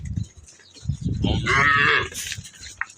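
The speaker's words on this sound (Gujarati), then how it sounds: "બધી ગાયન બહેન છૂટી ગઈ છે રસ્તા ઉપરથી" Cows released onto a road give one loud, close, drawn-out moo, with shuffling and other livestock noise around it.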